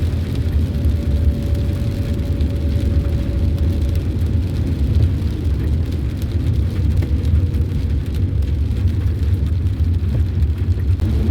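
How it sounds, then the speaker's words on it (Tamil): Heavy rain falling steadily in Batticaloa, Sri Lanka during a cyclone, a dense continuous roar of rain on surfaces, loud and unbroken throughout with a low rumble beneath. "மழை வர கொஞ்சம் கூடுது."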